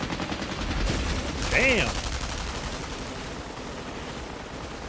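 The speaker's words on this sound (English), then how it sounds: "Having those things right behind you as they're firing that many bullets" Anime machines fire guns at Nomus in a steady, rapid stream of gunfire under a reacting viewer's voice, with a brief sweeping tonal sound rising midway.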